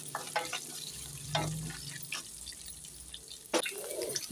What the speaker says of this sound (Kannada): ಈಗ ಚೆನ್ನಾಗಿ ಮಿಕ್ಸ್ ಮಾಡ್ತಾ ಇದ್ದೇನೆ ನೋಡಿ